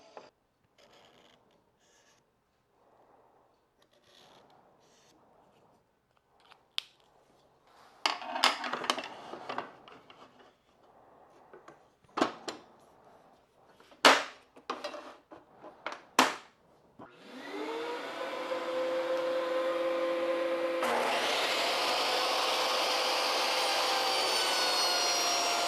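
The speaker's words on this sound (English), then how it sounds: "So I'm cutting these 2 pieces of wood to 3 inches" A 10-inch table saw spins up and runs steadily, cutting two pieces of wood to three inches. Scattered knocks and handling clatter come first, then the motor rises to a loud, sustained whine.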